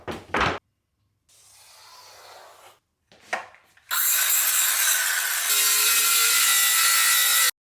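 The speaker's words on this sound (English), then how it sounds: "I need to cut this big sheet of plywood to the final size of the tabletop." A large sheet of plywood is cut for a tabletop with short bursts of rasping strokes at first, then a long steady loud sawing run near the mic.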